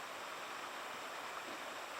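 A small waterfall hisses steadily in the distance along a mountain trail near Coleman, Alberta, a soft, even wash of falling water with no talk over it.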